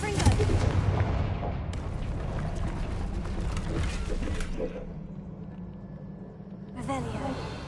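A Confringo blasting spell fired in Hogwarts Legacy, a loud booming blast with a long rumbling tail that fades out, followed by a second fainter crackle near the end.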